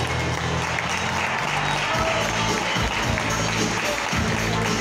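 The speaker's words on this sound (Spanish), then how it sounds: "Y nosotros los aplaudimos." Audience applause fills a tango vals semifinal hall at a world tango championship preliminary, steady and dense throughout, with crowd noise and some voices mixed in.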